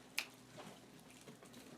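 A single crisp finger snap cracks close by, followed by quiet room tone and faint rustling.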